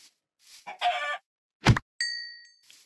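Chicken in a video game giving a short burst of clucking, followed by a sharp hit and a ringing chime-like tone, all brief and fairly quiet against silence.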